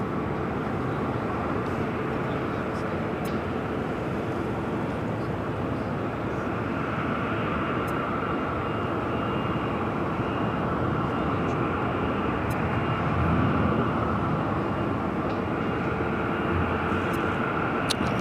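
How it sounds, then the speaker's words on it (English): A Boeing 777 freighter taxiing at LAX, a steady broad engine rumble and whine holding evenly throughout at moderate level, with no talk over it. "We're waiting for the 777 freighter to clear this building, making that Alpha 8 turn off."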